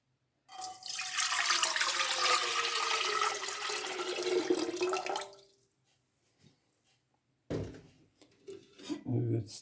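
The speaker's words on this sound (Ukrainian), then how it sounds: "Заливаю воду." Water gushes into an empty kettle for about five seconds, the pitch rising as it fills, followed by a few clunks and handling sounds.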